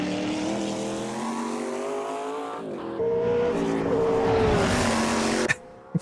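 An Indianapolis open-wheel race car in Automobilista 2 roars loud and close, its engine pitch climbing through the gears, with a brief tire squeal from a lock-up before a sharp cut near the end.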